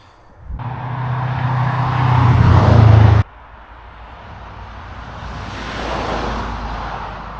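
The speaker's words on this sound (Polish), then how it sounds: "Samochody jadą." Cars drive past on a road near a lake: one vehicle roars by close and loud before cutting off abruptly, then another swells in and fades as it passes.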